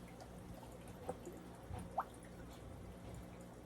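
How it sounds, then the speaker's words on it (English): A sponge filter is squeezed underwater in an aquarium tank, producing faint, scattered drips and soft watery gurgles with a couple of slightly louder splashes over quiet background. "put it in the water and squish it a few times so the sponge can absorb water"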